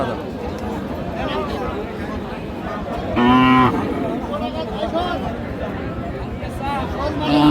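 Cows at a rural cattle market in Aftabganj, where dry cows and heifers are sold, give a loud mid-clip moo and another starting at the end, over steady crowd talk and bargaining voices.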